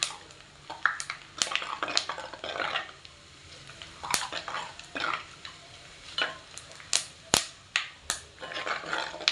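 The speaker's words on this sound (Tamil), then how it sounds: "இப்போ இந்த தாளிப்பு வடகம் நல்லா பொரியணும்" Tempering vadagam and fenugreek seeds fry in hot oil for a murrel fish kuzhambu, giving a steady sizzle broken by sharp, close crackling pops and spits throughout.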